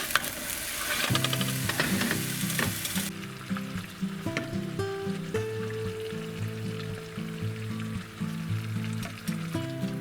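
Something caramelizes slowly in lard or oil for Christmas tamales, popping and sizzling steadily close by, with a louder burst of frying at the start and light clatter throughout.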